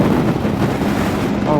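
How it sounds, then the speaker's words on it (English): Steady wind buffets the microphone with a loud, low rumbling roar throughout, with no other sounds standing out. "Oh, it's windy."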